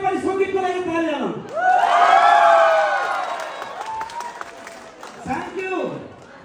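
An audience at a Nepali music concert in Tokyo claps and cheers loudly. Whoops and shouting voices swell together, then fade and rise again.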